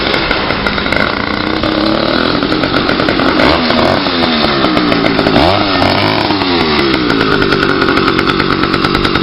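A small motorized bicycle engine running with no exhaust pipe, a loud, raw, buzzing rattle that pops continuously and close up, with some rising and falling revs.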